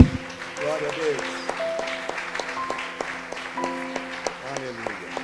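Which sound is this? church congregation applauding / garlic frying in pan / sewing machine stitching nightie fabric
church congregation applauding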